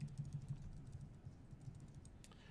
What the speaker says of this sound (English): So I'm just using my arrow keys to move these around